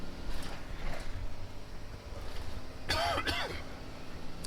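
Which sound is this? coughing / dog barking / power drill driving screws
coughing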